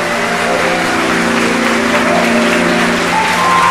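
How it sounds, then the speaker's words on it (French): A congregation at a Sunday church service applauds loudly and steadily. The clapping forms a continuous wash over sustained tonal sounds that resemble held music notes, running without a break. "applaudit la présence de mon Dieu à terre"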